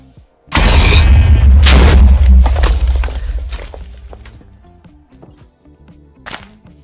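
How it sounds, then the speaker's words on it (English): TNT blocks explode in Minecraft: two loud, booming blasts in quick succession, the second merging into a long rumbling decay with scattered debris thuds afterward. "I just wanted to see some TNT explosions"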